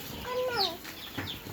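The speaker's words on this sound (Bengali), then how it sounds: "তুমি বাচ্চা দেখো মুরগি বাচ্চা দেখো" Chickens cluck softly nearby, a quiet burst of short rising notes followed by a few fainter clucks against low background noise.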